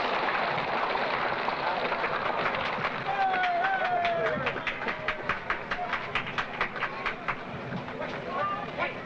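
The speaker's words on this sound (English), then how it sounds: "The train is moving now into place for loading" The Disneyland monorail at its 1959 opening rolls into place for loading with a rhythmic run of quick clacks, heard under ongoing speech and crowd murmur.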